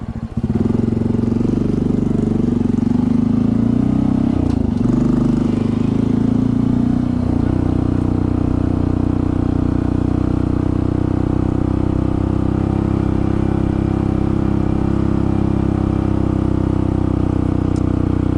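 Honda CT125 motorcycle fitted with a big bore kit climbs a mountain road in third gear, its engine droning loudly and steadily close up with a brief dip in pitch partway through.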